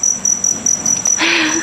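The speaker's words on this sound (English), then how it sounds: "There, the cricket's somewhere in there" A single cricket chirps loudly and steadily close by in a hotel room, a continuous high-pitched trill that holds throughout, with a brief burst of broader noise near the end.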